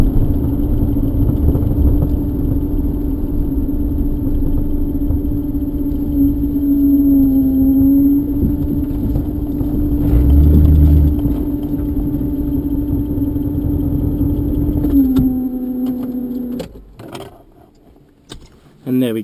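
A V8-engined Toyota Hilux truck idling with a steady loud drone, with brief rises in pitch as the engine is revved, then cutting off near the end.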